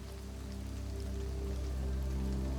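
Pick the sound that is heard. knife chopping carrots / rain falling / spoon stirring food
rain falling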